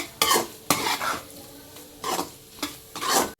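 A spatula stirs cooked rice into frying egg in a hot pan, giving a sizzle with five scraping strokes spaced irregularly, close and fairly loud, with no talk.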